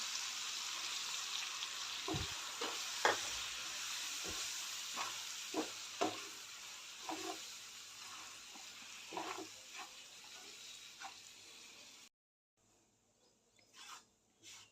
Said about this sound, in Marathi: आता यामध्येच मी ज्वारीचं पीठ घालते यामध्ये पीठही चांगलं भाजलं जाईल खमंग भाजून घ्यायचं आहे